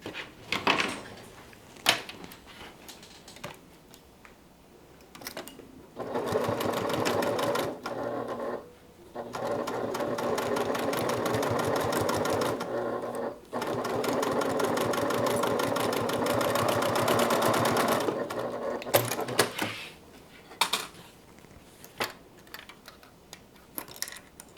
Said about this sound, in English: We are going to stitch just the side seams at this point.